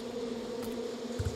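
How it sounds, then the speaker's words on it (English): Bees in Far Cry 5 give off a steady, close, low buzzing drone that holds evenly throughout, with no speech. "I'm hearing these bees."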